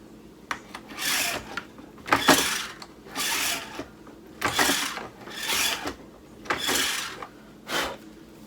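A shotshell reloading press crimps a 12 gauge 2 3/4 inch shell loaded with fifteen #1 buckshot pellets, giving repeated rasping, grinding strokes of metal on plastic, several in steady rhythm, close and without talk.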